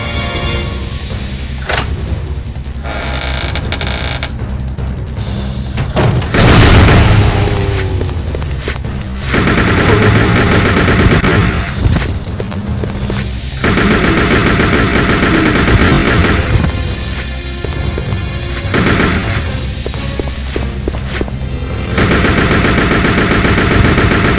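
Sustained machine gun fire from a survival-horror video game, long dense bursts of rapid automatic shots broken by short pauses, loud and close with explosive booms mixed in and no talking.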